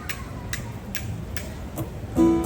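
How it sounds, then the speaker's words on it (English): Smooth river rocks, the ili ili used as a hula implement, clicking together in a sparse, irregular series of sharp taps, fairly quiet and close, ending in a brief tonal ring. "the smooth river rock. Sounds like this."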